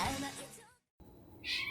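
A young kitten gives a couple of short, faint meows close by, separated by a brief silent gap, in an otherwise quiet room.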